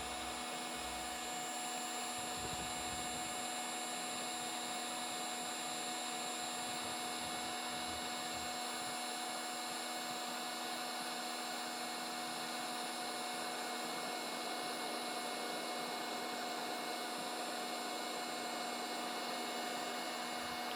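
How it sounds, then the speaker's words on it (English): A heat gun blows hot air in a steady, faint whirring hiss with a constant motor whine, held for about twenty seconds near a 12.8 V 200 Ah PUJIMAX LiFePO4 battery, with no talking. "we've got a heat gun, and we can try a heat gun real quick"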